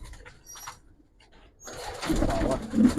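Soft, low coos from Giribaz pigeons near the end, under a rising rustle of movement, after quiet faint chirps at the start.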